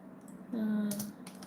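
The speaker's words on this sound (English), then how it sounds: "So in here, I'm going to type in" Typing on a computer keyboard while entering an author's name into a desktop note-taking app, a few soft close key taps with a brief steady tone in the middle.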